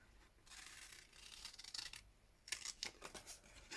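Scissors snip through paper in a quiet room, faint close crisp cuts, a few slow ones and then a quicker cluster near the end, with no talk.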